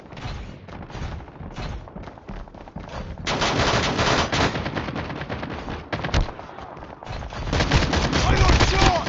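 Rapid automatic gunfire from a Call of Duty match, dense bursts of shots crackling close and loud, intensifying midway and again toward the end with little pause between volleys.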